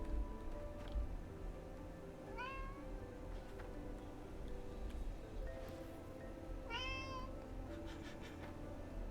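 A domestic cat meows twice, each a short rising call, several seconds apart. Both are fairly faint against a steady background hiss and low hum.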